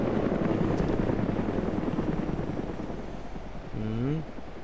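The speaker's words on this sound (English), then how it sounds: "See a dude shooting the chopper over there." A helicopter flies in the video game ARMA 2 DayZ, its loud, steady rotor drone filling the scene and easing slightly over time, with a brief voice near the end.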